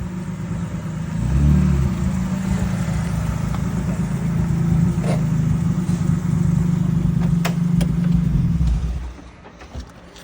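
A turbocharged BMW M3 E30 with an S52 engine runs steadily nearby, a loud, even mid-pitched drone with a slight rev rise early on, dropping away near the end.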